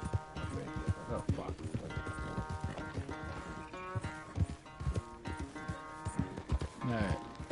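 Horse hooves clip-clop in a steady rhythm while riding in the Red Dead Redemption II video game, mixed with music and game sounds, with someone talking over it.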